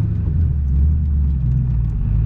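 A 2004 Ford Mustang GT Bullitt V8 with a manual gearbox gives a loud, steady low rumble as gas is applied while the clutch is let out, with no voices over it.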